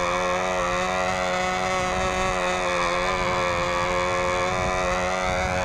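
A Sig Skyray model airplane engine drones steadily at high revs, a continuous buzzing whine with a fairly constant pitch, loud and close throughout.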